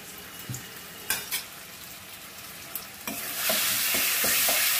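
Potatoes stirred and fried in a pan for dhokar dalna, with scraping spoon strokes and a sizzle that grows louder and steadier toward the end.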